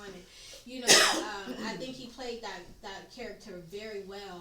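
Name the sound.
sneeze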